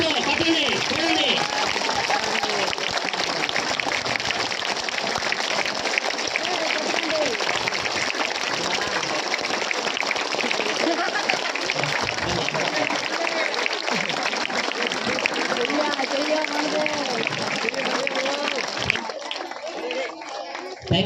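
At an Ambedkar Jayanti celebration in Sriharikota, an audience keeps up long, steady applause with chatter and voices mixed in, ending abruptly near the close.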